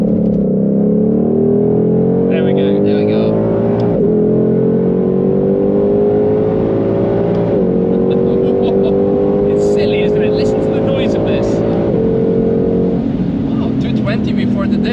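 A Ford Mustang Shelby GT500 on the Nürburgring accelerates through the gears in steady rising pulls, with brief dips at each shift, a loud continuous engine drone heard from inside the car.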